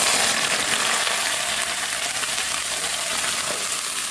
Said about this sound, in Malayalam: ഇനി ഇതിലേക്ക് 1/2 കപ്പ് വെള്ളം സൂക്ഷിച്ച് മാറി നിന്ന് ഒഴിച്ചു കൊടുക്കണം